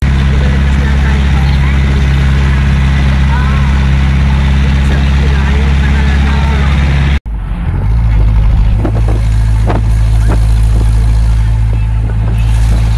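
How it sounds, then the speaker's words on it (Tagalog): A jeepney's engine drones loud and close during a ride carrying retired teachers, with a steady low rumble that cuts off sharply midway and then resumes with road noise. "Sakay na po kami ng jeep, biyahe po kaming mga retired teachers sa aming pupuntahan."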